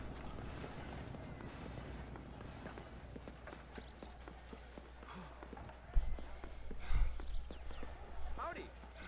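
Horse hooves clip-clopping in a video game featuring Marston, a quick steady run of hoof beats kept low under ambient noise, with a few louder thumps near the end and no voices.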